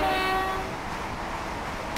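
Train in Train Simulator 22 on the Chatham Main Line, a brief horn tone sounding at the start and fading quickly into the steady rumble of the train.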